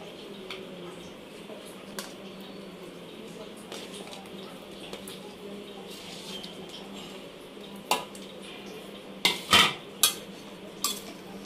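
A utensil scrapes and clinks against a pan while ridge gourd, tomatoes and green chillies fry, with sparse taps early and a cluster of sharper metallic knocks toward the end, faint frying beneath.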